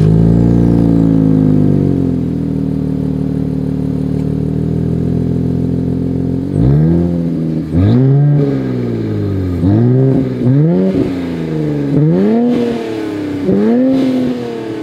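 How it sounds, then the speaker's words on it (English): A loud 2023 Nissan Z sports car exhaust idles steadily, then blips through a series of sharp revs rising and falling about once a second. "here is that exhaust clip."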